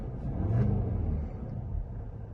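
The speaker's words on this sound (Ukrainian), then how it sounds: "Двигун чути дуже добре в салоні" A low, steady engine rumble heard from inside the cabin of a 240 hp Skoda Kodiaq vRS, briefly swelling louder before settling into a constant hum.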